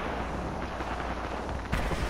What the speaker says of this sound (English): We got another squad attacking us. Taking fire.